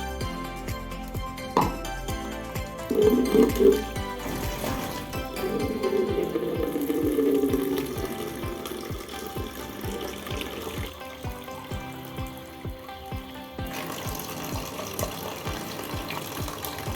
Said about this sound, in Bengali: জলগুলো ভরে নিই।